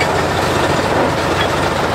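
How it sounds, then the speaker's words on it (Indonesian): Steady rumbling and rattling of heavy rail wagons fully loaded with sugarcane rolling along the track, a continuous broadband roar with faint clanking, close by. "di belakang saya ini merupakan kereta-kereta lori yang sudah penuh muatan tebu"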